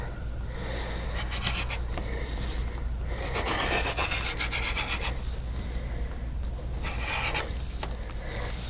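A cutter slices fabric along a Slit 'N Sew template, giving intermittent gritty scraping and rasping passes over a low steady background hum, close up and without speech.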